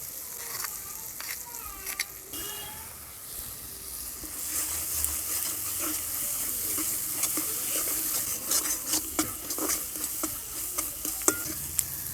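A spatula scrapes and stirs turmeric, chili powder and mustard paste with a splash of water in a hot pan for a Bengali small puti fish curry, with steady sizzling and irregular scraping strokes close by.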